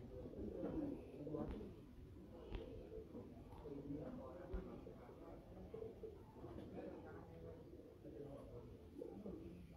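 Dub pigeons cooing from a rooftop loft, soft repeated low coos close by with faint chirps, quiet overall with voices talking in the background.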